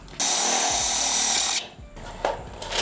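A power drill driving screws into a bracket for a solar light mounting on C-channel posts whirs loudly in one sustained burst, then gives two shorter pulses, close by and without talking.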